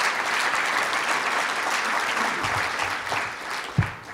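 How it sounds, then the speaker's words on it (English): Applause from an audience at a talk on abortion, a dense continuous clapping at moderate volume, with a single sharp thump near the end. "yes, we can clap for that."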